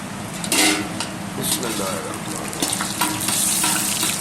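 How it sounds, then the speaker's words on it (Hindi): Cumin, cloves, cinnamon and bay leaf sizzle in hot oil, with loud bursts of crackling and a few clanks of a utensil against the pan. "अब मैं इसके अंदर ये ज़ीरा, लौंग, दालचीनी और तेज़ पत्ता ऐड करूँगा।"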